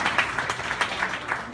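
Wedding guests at a best man speech clapping together, a brief patter of applause from a crowd heard at moderate distance, fairly soft.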